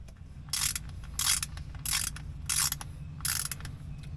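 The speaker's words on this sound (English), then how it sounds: "I'm going to go ahead and put the drain plug back in." A hand ratchet threads a transfer case drain plug back into place, giving five short, regular bursts of close, quiet clicking.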